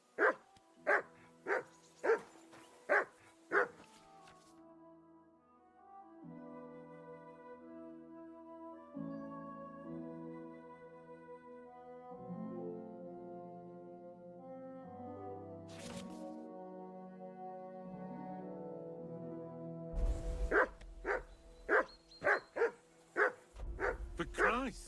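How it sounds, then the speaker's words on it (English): A dog in Kingdom Come: Deliverance II barks in a quick close burst, then falls silent while soft music plays, before a second run of loud rhythmic barks returns at the end. "Whistle at that mutt of yours to stop barking."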